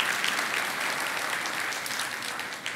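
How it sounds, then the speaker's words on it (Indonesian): A church audience claps for a preacher's guest, a dense, loud burst of applause that stays steady and close, then tapers slightly toward the end. "Kasih tepuk tangan, love you."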